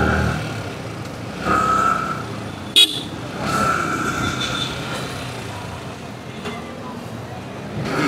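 Car horns toot in a night-time traffic jam in Khilgaon, heard from a motorbike: a couple of drawn-out honks and one short sharp blast over a steady rumble of idling traffic.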